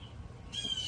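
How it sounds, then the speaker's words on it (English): A bird chirps faintly in the background, one thin, high call that starts about halfway through and holds over a low murmur of room noise. "You hear the birds chirp."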